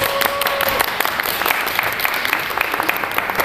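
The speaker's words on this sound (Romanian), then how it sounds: "Un rând de aplauze pentru acest tânăr autor." Steady applause from a crowd at a book launch for the young author of the novel "Toxic", dense clapping throughout with a few brief tonal squeaks early on and some voices murmuring underneath.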